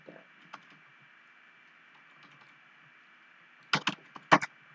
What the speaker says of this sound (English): if you're hearing my keyboard, don't worry about it